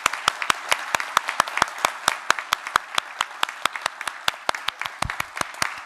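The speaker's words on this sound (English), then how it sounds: "if we could give one more round of applause for our entire cohort" Applause for a graduating cohort at a graduation ceremony, with dense, even clapping from a crowd that carries on steadily for several seconds.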